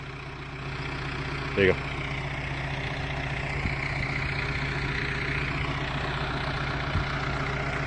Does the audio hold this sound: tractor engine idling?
yes